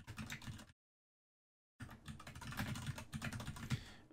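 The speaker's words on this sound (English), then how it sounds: "You can see that I'm typing a bunch of stuff right now and it's in key down." Someone types on a computer keyboard, with quick close key clicks in dense bursts, one short silent pause, then a longer, steadier run of tapping.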